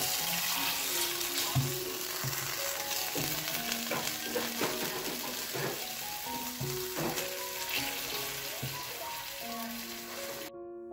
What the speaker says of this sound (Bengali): এরপরে চাটুর উপরে একটুখানি বাটার দিয়ে ওই র্যাপগুলোকে ভেজে নেব